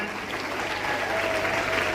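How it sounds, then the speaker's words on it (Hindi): Hearty applause from parents and guests at a school ceremony honoring merit students in Dadawas, a loud, dense, steady burst of many hands clapping across the whole stretch, with faint voices mixed in. "ऐसे माता पिताओं के लिए भी एक बार जोरदार तालियां"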